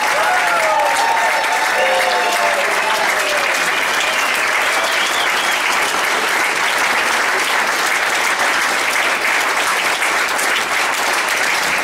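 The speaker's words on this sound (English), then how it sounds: "would you please give them a rousing round of applause" A large audience at a Hall of Fame evening with a highland band and dancers applauds loudly and steadily, a dense, unbroken roar of clapping that lasts the whole stretch without easing.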